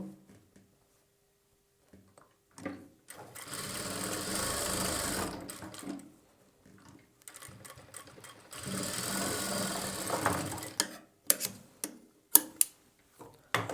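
A sewing machine joins the front and back shoulder seams of a boat-neck blouse in two sustained close runs, with scattered clicks and small handling taps between and after the stitching.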